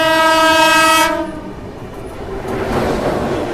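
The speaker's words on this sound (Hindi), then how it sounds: "लो इंटरसिटी आ गई" An Intercity Express train between Ambala and Delhi sounds a long, loud multi-tone horn, then its wagons rush past nearby with a rising rumble and rattle.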